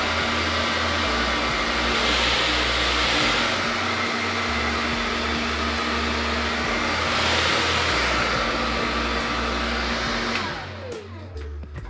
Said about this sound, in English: what the hairdryer did was melt the product into my hair